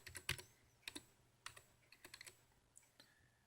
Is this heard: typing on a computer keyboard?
yes